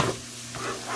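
Fried rice with egg stirred in a hot pan, a continuous sizzle with soft scraping swishes of the utensil, close and without talk.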